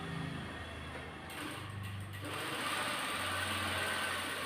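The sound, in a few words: sewing machine stitching a kurti slit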